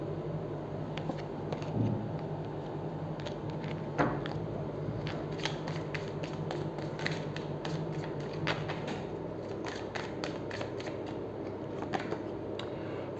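Tarot cards being shuffled and dropping onto a surface during a Hindi tarot reading, a steady run of soft, papery flicks and light taps close by, with a faint low hum underneath and no talking.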